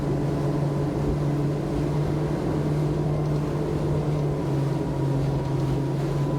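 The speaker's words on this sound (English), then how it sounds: "Good bit of noise though from those fruity V8s aft." Deep, steady drone of powerful inboard V8 engines on a Schaefer V33 boat cruising at 38 knots, loud and continuous with a low rumbling hum and rushing water noise.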